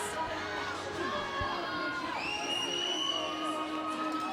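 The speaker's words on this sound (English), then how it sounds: "the crowd of Leominster happy to finally get some power plays in their favor" A crowd at a varsity girls' ice hockey game against Leominster cheers and shouts with whoops and children's yells, a steady roar in a rink that continues throughout.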